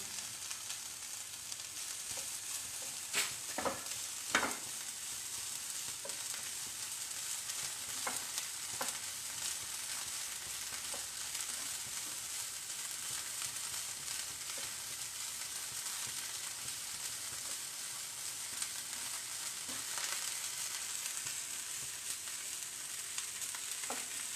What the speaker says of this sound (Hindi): अनियन को हमने ज़्यादा नहीं भूनना है, सिर्फ 2-3 मिनट के लिए सौते करना है